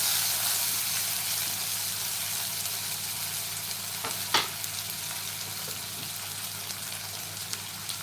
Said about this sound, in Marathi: ते बघा कढईमध्ये तेल चांगलं गरम झालेलं आहे एक बारीक केलेला कांदा घालूया